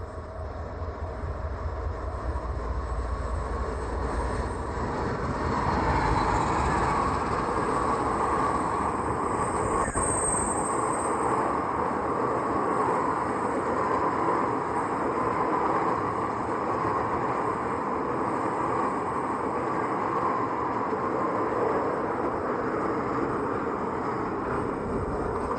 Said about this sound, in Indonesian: Ditarik ke loko CC206 menggeret KA Argo Semeru.